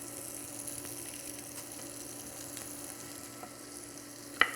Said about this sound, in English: And let's put the onions in.